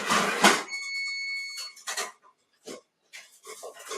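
A kitchen timer counting down to zero during bread baking gives a single sustained electronic beep lasting about a second. Scattered kitchen clatter and handling noises follow.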